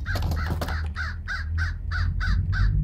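In the Hello Neighbor video game, a crow gives a quick run of about eight evenly spaced harsh caws over a low rumbling game background, clear and fairly close, with no talk.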